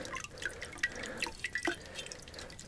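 Water drips steadily from a bush pot just dipped and filled, at a wall tent camp; irregular close, clear plinks and splashes follow one another with no talking.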